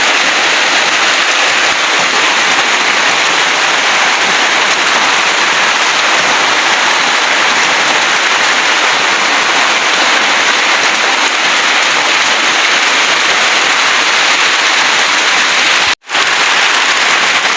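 Rain falls steadily in a dense, loud, even hiss that lasts the whole stretch and breaks off only once, briefly, near the end, with no voices.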